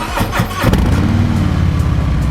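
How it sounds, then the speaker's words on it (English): Cold start of a 2022 Harley-Davidson Road Glide Special motorcycle: a short cranking burst, then the V-twin catches and settles into a loud, steady, lumpy idle close by. "here's the first cold start on the 2022 Road Glide Special"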